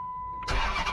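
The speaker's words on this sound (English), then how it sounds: "When I start the car up," A Dodge Magnum's engine cranks and catches midway through, a 1 kHz tone sounding steadily before the loud, broadband roar of the engine firing up and settling.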